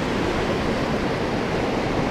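Water pours over the aqueduct spillway at Fairfax, a steady, dense rushing roar that holds at an even loudness for the whole stretch, with no voices over it.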